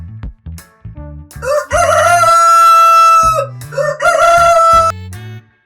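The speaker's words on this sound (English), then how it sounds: "Rooster." A rooster gives two loud, close cock-a-doodle-doo crows in a row, with a short pause between them and low thumping sounds around them.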